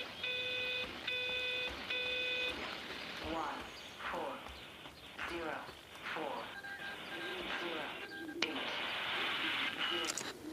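Birds cooing and calling in Everybody's Gone To The Rapture, a series of soft repeated warbling coos heard under steady talking, with a few chiming electronic tones at the start.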